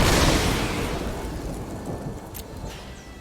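Lightning strike spell effect in a Magic card video game, a loud crackling, rumbling burst that starts strong and slowly fades over a few seconds, with no talk.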